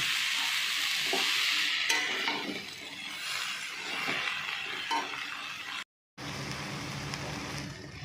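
Vegetables and a fried katla fish head stirred together in a hot pan, a steady sizzle with scraping stir strokes and a brief break near the end, no talking.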